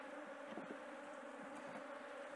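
A honey bee swarm buzzes at a hive box holding brood frames, a steady, soft, continuous drone heard alone at close range.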